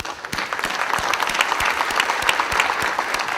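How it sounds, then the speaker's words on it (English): Audience applause at an awards ceremony, a dense steady clapping from a crowd in a hall, fairly loud and continuous with no talking. "I would like to give them a big round of applause."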